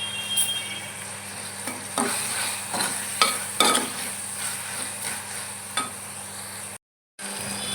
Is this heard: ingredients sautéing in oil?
yes